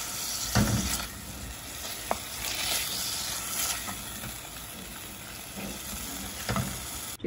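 Chicken pieces fry in a hot pan for a stuffed crust pizza filling, giving a continuous close sizzle with a few stirring scrapes and clatters over several seconds and no voices.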